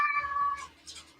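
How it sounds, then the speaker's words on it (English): A house cat gives a single clear, fairly loud meow lasting about half a second, followed by faint breathy noise, heard close and alone. "That's a cat."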